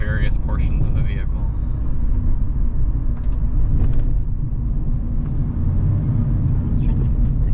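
A 2021 Mazda MX-5 Miata with a manual gearbox drives along with a steady, loud low engine and road rumble throughout, while people talk over it inside the cabin.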